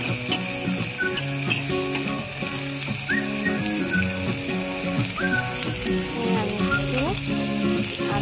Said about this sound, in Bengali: সবজিগুলো ভালো করে ভাজা ভাজা হয়ে গেছে